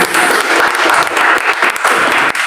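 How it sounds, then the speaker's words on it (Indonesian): Loud, close applause from a congregation at a church worship service in Jakarta, a dense wash of many hands clapping continuously. "Tepuk tangan dulu bang."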